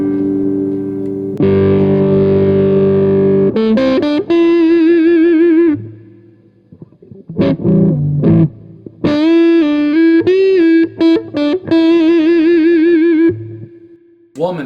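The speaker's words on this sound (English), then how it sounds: "So as we play the other guitars and I'm turning the tones" Electric guitar with its tone knob rolled down, playing loud, distorted chords and single notes through effects, with sustained passages broken by short pauses and sharp picked attacks.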